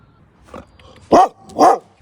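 A dog barks twice, sharp and loud at close range, after a softer yelp; there is no talk.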